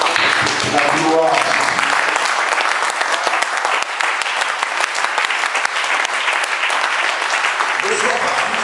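Church congregation applauding to acclaim Jesus during a worship service, a loud, sustained wall of clapping from a large crowd that runs the whole time, with voices calling out within it.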